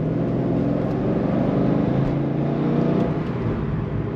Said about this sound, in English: let's test out the acceleration one more time just for fun